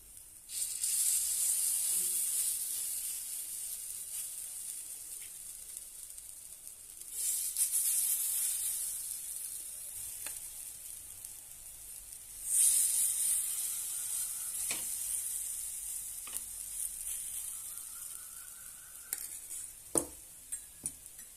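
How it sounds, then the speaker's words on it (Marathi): Mixed sprouts appe batter sizzles in an oiled appe pan, a soft hiss that swells each time batter goes in, fades between pours, and ends with a few small clicks, quiet and close, with no voices. "त्यावर आपण तेल घालूया. त्यामध्ये पीठ घालून घेऊया."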